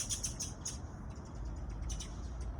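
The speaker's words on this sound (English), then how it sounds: "I think the birds are coming to listen to, peace." Small birds chirp outdoors in short, high, repeated tweets clustered at the start and again near the end, faint and distant over a low steady background rumble.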